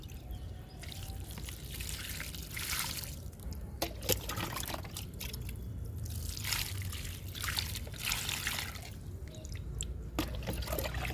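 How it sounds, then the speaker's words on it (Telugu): Jamun seeds planted in a home garden are watered, producing a soft, steady trickle and dribble of water that continues throughout at low volume. "ఇప్పుడు వాటర్ ఇచ్చేద్దాము నేరేడు విత్తనాలకి"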